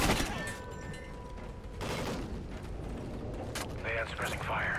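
Sustained suppressing gunfire in Call of Duty: Ghosts, a dense, steady rattle of shots and explosions with voices talking over the battle noise.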